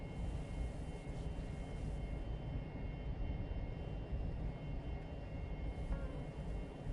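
Steady, loud aircraft engine roar on a fixed-wing airplane coming in for a hot, fast landing, holding a constant broadband drone throughout with no talk.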